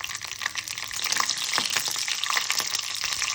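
Mustard seeds, chana dal and green chillies crackling in about two tablespoons of hot oil in a pan, a dense frying hiss with small popping bursts that grows slightly louder, no voices.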